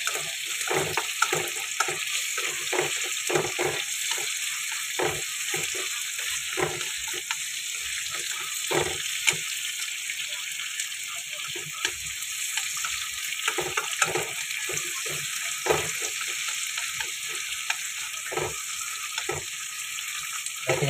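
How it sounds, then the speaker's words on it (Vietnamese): Dried snakehead fish frying with garlic in a pan, a steady close sizzle of hot oil broken by frequent sharp crackles and stirring clatter, with no voices. "mình chiên thôi nha cả nhà."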